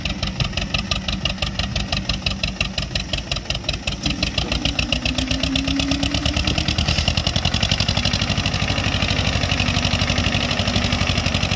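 An Escort 335 tractor engine labors while pulling a fully loaded trolley, giving a steady, loud, rapid diesel chugging throughout with a slight rise in pitch partway through and no voices.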